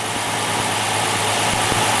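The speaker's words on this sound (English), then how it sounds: "Here you can hear the engine running." The engine of a 1935 Vauxhall DX runs at a smooth, even idle, close and steady throughout with a low rumble. No voices are heard.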